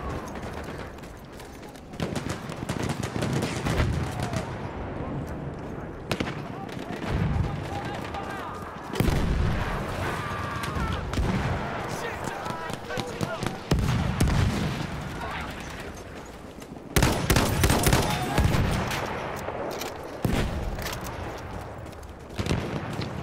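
An M1917 MG machine gun fires in Battlefield 1, with repeated loud bursts of gunfire and booms scattered across a dense, noisy battle soundscape, mixed with other combat sounds.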